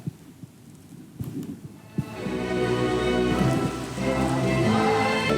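Heavy rain pours down on an outdoor labour rally, a dense steady hiss and patter that starts lighter with a few thumps and then swells into a loud continuous downpour.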